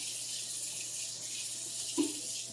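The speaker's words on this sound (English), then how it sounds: "So let me just rinse these off really quick." Tap water runs steadily into a kitchen sink while vegetables are rinsed, a continuous hiss with a brief splash or clunk near the end.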